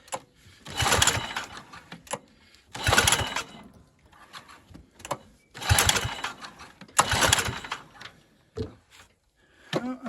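A John Deere lawn tractor engine that sat abandoned for 25 years is pull-started in several repeated, rhythmic cranking bursts, loud and close, with short pauses and clunks between attempts.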